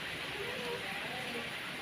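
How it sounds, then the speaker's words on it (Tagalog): Rain falls on a farm on a cold, rainy afternoon, making a steady, even hiss that fills the whole moment without pause. "It's a rainy day."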